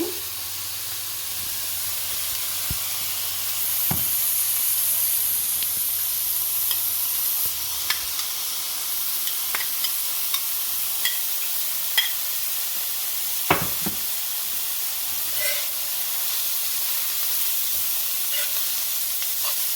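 Carrots fry in a pan for carrot and cashew fried rice, giving a steady, fairly loud sizzle and hiss that runs throughout with occasional light clicks of stirring.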